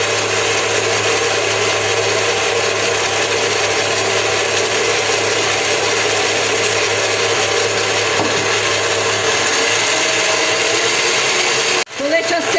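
Electric mixer whipping softened butter into butter cream as syrup is poured in, a loud, continuous high whirring drone held for several seconds, then briefly cutting out near the end.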